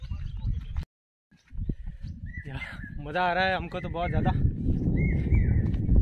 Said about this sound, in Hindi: कभी कोयल कभी चिड़िया कभी पी पू पापू हांग बोल रहे हैं